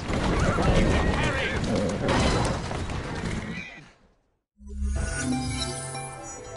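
A horse in Assassin's Creed Syndicate whinnies and hooves clip-clop amid a busy, loud game mix with a voice speaking, then a brief silence before more hoofbeats and background sound.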